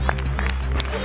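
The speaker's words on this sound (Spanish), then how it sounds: "¡Aplauso!" A TV studio audience claps steadily through a comedy panel show, a dense, continuous wash of applause with a few sharper individual claps standing out and voices faintly mixed in.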